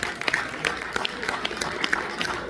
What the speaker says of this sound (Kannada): ಅವರು ಮತ್ತೊಮ್ಮೆ ಚಪ್ಪಾಳೆ ಕೊಡಿ